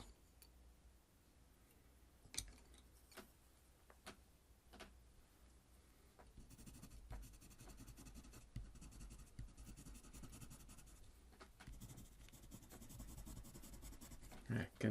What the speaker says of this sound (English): Again, colored pencil.